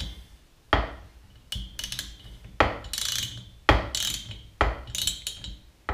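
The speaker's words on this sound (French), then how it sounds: "Et on va pouvoir venir serrer tous nos écrous." A torque wrench ratchets as nuts are tightened on a Polini 70 scooter engine kit, giving repeated bursts of quick metallic clicking in short strokes with brief pauses between them, close and fairly loud.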